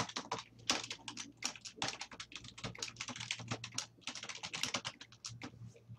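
Typing on a computer keyboard while renaming a folder, rapid, uneven clusters of close, crisp key clicks that continue steadily with short pauses in between.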